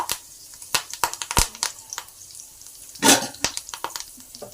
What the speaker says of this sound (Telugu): ఆయిల్ బాగా కాగిన తర్వాత కొద్దిగా కరివేపాకుని వేసుకుందాం